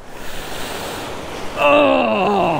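Ocean surf breaks on a beach, a broad wash of noise that swells suddenly about halfway through into a louder, closer rush, with a strained vocal groan rising over it.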